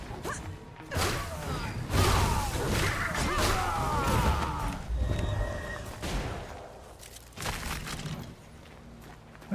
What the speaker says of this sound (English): Where'd that gunshot come from?